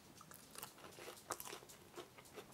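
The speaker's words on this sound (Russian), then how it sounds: "Хрустит." Crisp, close crunching bites into fried cottage cheese donuts dusted with powdered sugar, several quick bites and chews, quiet and alone.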